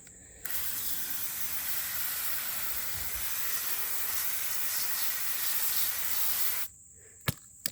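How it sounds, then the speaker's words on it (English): A garden hose sprays a continuous hissing stream of water steadily for several seconds, then cuts off, followed by a couple of sharp clicks. "Now I'm going to go spray it off with a hose"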